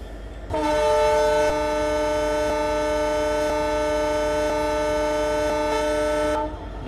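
A loud, steady horn blast from the 12716 Sachkhand Express leaving Ludhiana station, sounding as its second departure signal. The rich tone holds for roughly six seconds, then stops sharply.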